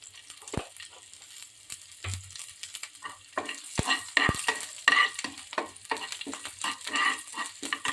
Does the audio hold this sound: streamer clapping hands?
no